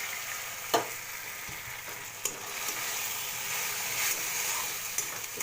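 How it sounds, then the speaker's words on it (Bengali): Prawns fry with browned onions in a hot pan, a steady close sizzle broken by a few sharp clicks of stirring, with no voices. "পেঁয়াজটা যেহেতু ভাজা ভাজা হয়ে গেছে, এইবার আমি চিংড়ি মাছটা দিয়ে দেবো।"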